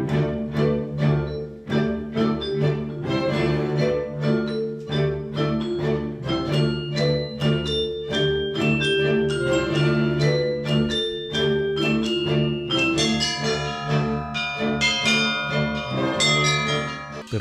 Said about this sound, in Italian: Una suggestione speciale affidata ad uno strumento unico di campane suonate dal maestro